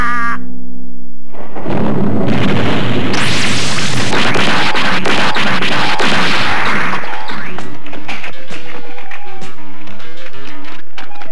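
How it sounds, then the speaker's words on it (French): Thunder in a French-language animated children's story: a loud, sustained crashing rumble with whooshing, cracking bursts, then scattered music-like tones as it dies away. "Joli tonnerre."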